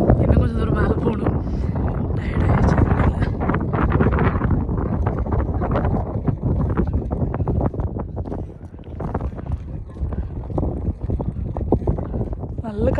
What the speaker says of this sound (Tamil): நல்ல காத்தடிக்குது.